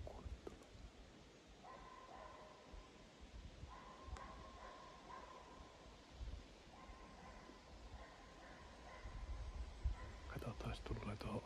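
A hunting dog barks far off in a Finnish forest during a beaver-trapping outing, faint repeated yaps carrying through quiet woods, with someone speaking quietly nearby and leaves rustling.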